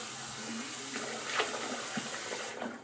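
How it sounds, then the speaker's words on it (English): Tap water runs steadily into a sink during wet-shave preparation, with soft splashes as water is scooped onto the face, close and continuous before cutting off near the end. "So I put some water on my face."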